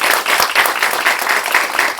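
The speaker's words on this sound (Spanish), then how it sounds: "Un aplauso" Dense, steady applause from an audience at an academic award presentation at the Escuela Superior de Economía, where an author is honoured for his book on the US economy; continuous clapping fills the full two seconds at even loudness.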